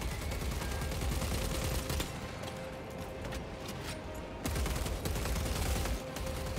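Sustained automatic gunfire from an inaccurate weapon in Warhammer 40k Space Marine 2, firing in dense loud bursts that pause briefly around the two-second mark and resume later with heavy mechanical clatter.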